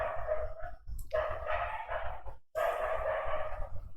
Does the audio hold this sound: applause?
no